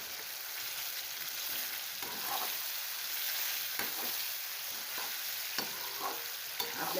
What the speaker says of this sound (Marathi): ते आता आपल्याला तेलामध्ये चांगलं फ्राय करून घ्यायचं आहे